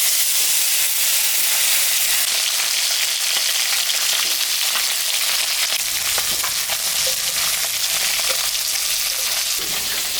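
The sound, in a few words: koi fish frying in hot oil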